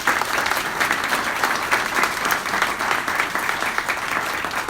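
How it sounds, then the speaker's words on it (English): An audience at an award ceremony applauds in a steady, full wash of many hands clapping, sustained and fairly loud throughout with no talk over it. "Give yourselves one more round of applause."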